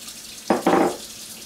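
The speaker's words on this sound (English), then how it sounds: "it says you're supposed to rinse this with cold water" Cold tap water briefly runs over freshly churned homemade butter in a sink, two short bursts of splashing flow close by, the second longer, against a quiet kitchen background.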